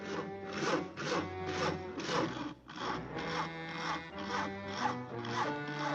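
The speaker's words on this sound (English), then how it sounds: "Isn't that your house Harry is sawing on?" Rhythmic rasping strokes of a saw cutting through a tree limb, steady back-and-forth sawing with a brief pause midway, close and fairly loud.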